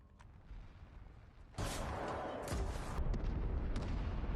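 Tanks and artillery firing in a war film battle during a civil war, with a sudden loud blast of broadband noise breaking out after a quiet opening and continuing with sustained rumbling and sharp cracks, no talk.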